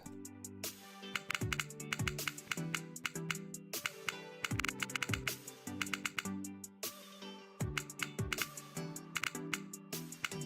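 Rapid typing on a computer keyboard during futures trading, close and busy, keys clattering in quick irregular bursts with short pauses throughout and no talking.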